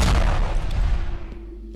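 A thrown grenade blows up in the Ravenfield shooter game: one loud, close, deep explosive boom that rolls off into a low rumbling tail.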